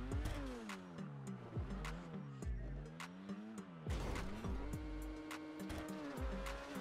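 A car in the GTA 5 video game revving and accelerating through a parkour race, the engine note climbing and dropping in repeated shifts, steady and loud throughout with no voices on top.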